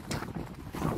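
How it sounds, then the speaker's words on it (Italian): Strong wind outdoors at the foot of Monte Picco buffets the microphone in rough, uneven gusts that rumble and hiss throughout. "il vento è ancora fortissimo"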